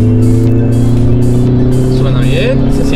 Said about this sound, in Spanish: suena muy bien con el escape que trae. Es un escape OBX